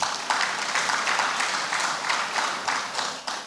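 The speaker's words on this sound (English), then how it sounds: "Please, can we give him a hand of applause?" Steady applause from a conference audience at a flood outlook event, sustained dense clapping throughout with no talk over it.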